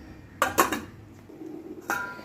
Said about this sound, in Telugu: ఒక్కసారి అట్ట అనేసి మూత పెట్టేద్దాం.